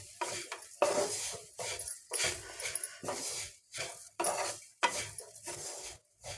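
Grated raw coconut and sugar are stirred in a pan, giving rhythmic, close scraping strokes of a spoon across the pan bottom, about two each second, with brief gaps between them.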